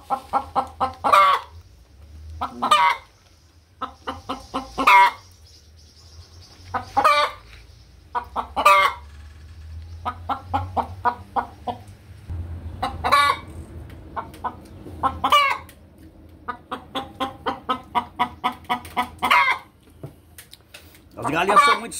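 Backyard hens on a smallholding where they lay eggs even on the table, clucking close by in repeated short bursts that come in clusters, with a low steady hum underneath.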